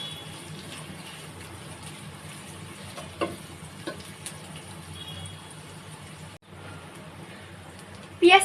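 Onions sizzle as they fry in oil with spices for plain polao, a steady soft crackle with a few light stirring taps and a sharper clatter at the end.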